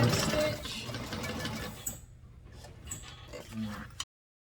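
A sewing machine back-stitching through a clutch lining: a steady close mechanical whir that stops briefly, then restarts in short spurts before cutting off.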